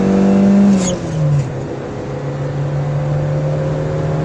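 A car engine held at a steady high rev around 6,000 rpm, a strong droning hum that dips briefly then settles into a sustained even tone, close and loud with no talking.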